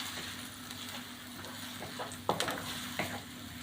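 Onions for dhaba-style palak aloo sizzle steadily in a pan while a spoon stirs and scrapes through them as they brown, with a few sharper clinks near the end.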